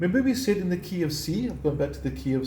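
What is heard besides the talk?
None of the usual background noises is heard.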